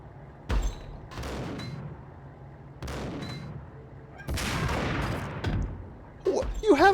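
Shotgun blasts in the video game Max Payne, several loud separate bangs a second or so apart, each decaying quickly, with a voice shouting at the end.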